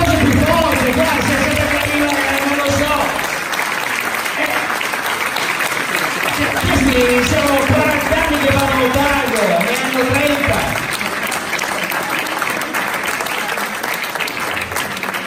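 Loud, sustained crowd applause for a tango dance couple at a performance, dense clapping mixed with cheering voices and some music-like tones, filling the space close by.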